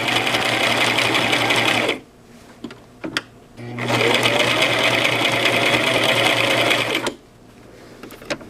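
A Brother LX 3817 sewing machine stitching a vest placket runs in two steady, close, loud bursts of rapid mechanical whirring, split by a short quiet pause with a few clicks.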